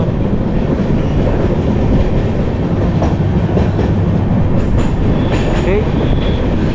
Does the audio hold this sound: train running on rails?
yes